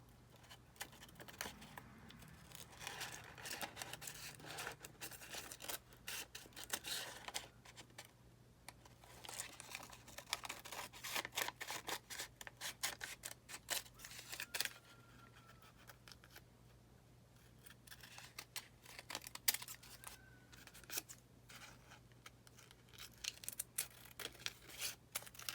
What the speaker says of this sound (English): And then I'm just gonna trace or cut around it.